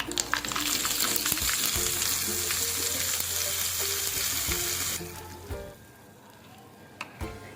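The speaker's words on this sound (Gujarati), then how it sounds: "તૈયાર થઈ ગયેલો વઘાર આપણે સબ્જીમાં એડ કરી દઈશું" A loud burst of sizzling as hot tempering with dried red chillies hits coconut chutney, hissing steadily for several seconds before dying down to quiet clinks.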